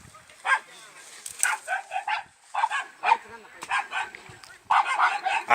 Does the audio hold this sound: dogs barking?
yes